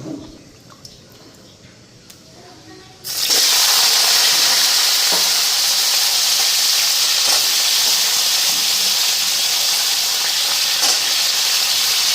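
Black cumin seeds dropped into hot oil for a pumpkin and dried fish curry, bursting into a loud, sustained sizzling hiss after a quiet start with a few clicks, steady and close throughout.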